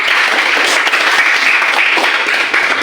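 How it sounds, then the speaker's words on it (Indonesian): Students in a classroom clap together in a dense, steady burst of applause that fills the room throughout, with no speech over it. "Nah, tepuk tangan semuanya"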